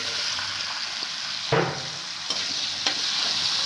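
Small shallots sautéed in a pan while cooking a roasted-coconut chicken, a continuous close hiss of frying with a few sharp stirring scrapes and clacks, no talking.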